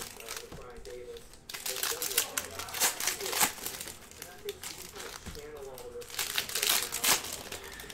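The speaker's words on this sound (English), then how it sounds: "I can get this pack open here." Crinkling plastic wrapper of a 2019-20 Panini Prizm Basketball card pack being torn open, with close, busy crackles and rustles that come in bursts while someone talks over them.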